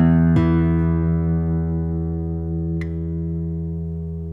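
A single plucked chord on a Dowina hybrid guitar with heavier, denser metal strings rings out and sustains evenly for several seconds, decaying very slowly, with a small tap partway through.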